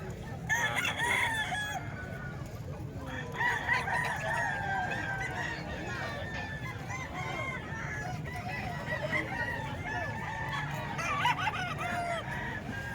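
Many chickens and roosters at a farm in Calumpit crow and cluck over one another, drawn-out crows rising repeatedly at moderate distance against a steady busy outdoor background.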